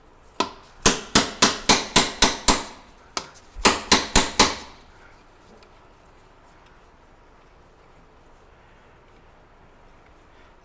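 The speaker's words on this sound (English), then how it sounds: "Our beautiful slide hammer." A long-used slide hammer, its threaded end repaired with a welded bolt, works on a 2003 Ford F-150 Triton 4WD with a 5.4L engine. It gives a loud, close run of sharp metallic blows, seven and then four, and quiet follows.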